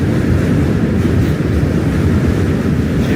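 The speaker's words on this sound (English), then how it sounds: "Lots of trains on this bridge." Loud, steady low rumble of a train crossing a bridge in New York City, continuous and close with no voices over it.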